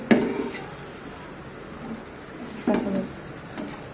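Omelette frying in oil in a pan for a simple breakfast, a steady soft sizzle with two louder bursts of scraping and stirring against the pan.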